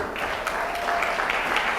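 An audience at an outdoor writers' awards ceremony claps for a third-place winner, a short, moderately loud patter of clapping lasting under two seconds.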